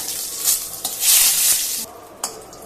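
Whole spices, cloves, cinnamon, dry bay leaves and dried red chillies, sizzling in hot oil in a pan with stirring, a loud crackling fry that swells and ebbs, with a brief clink near the end.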